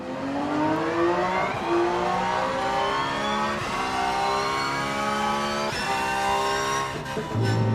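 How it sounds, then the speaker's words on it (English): Race car engine in the racing sim Rennsport, revving loudly and steadily with rising and falling pitch sweeps as it accelerates and shifts through gears, close and continuous with no talk. "There you go, it's a little bit of a sound of the engine."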